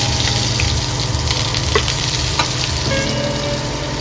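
Chopped onion and green chili frying with cinnamon in hot oil for a mushroom dish, giving a loud, steady crackling sizzle close by, with occasional light utensil scrapes over the constant hiss.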